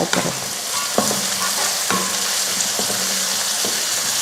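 Shallots, garlic and curry leaves sautéing in hot oil, a loud continuous sizzle broken by several scraping stirs of a spoon across the pan, close up with no talking.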